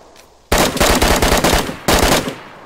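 A near, loud burst of automatic gunfire in a video game, a rapid string of shots after a quiet start, then a brief second burst that trails off.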